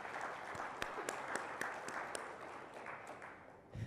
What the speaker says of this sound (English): If you can give them a big round of applause,